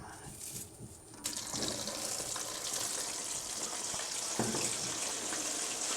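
Chicken wings frying a second time over a low gas flame, a steady, dense sizzle and crackle of oil that swells after a quieter opening second and holds loud and close throughout.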